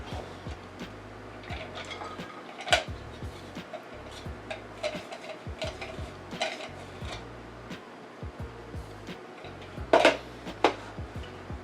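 The slicing disc is lifted out of a food processor, giving scattered plastic clicks, knocks and rattles of parts being handled at close range over a quiet room, with no talking.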